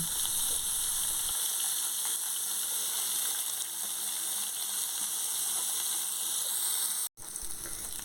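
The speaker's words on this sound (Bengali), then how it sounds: "এবার ওই তেলেই ডুমো করে কাটা আলুগুলো ভালোভাবে ভেজে নেব।" Diced potatoes frying in hot oil give a steady, loud, bright sizzle with a constant hiss that carries on without pause, briefly cut near the end.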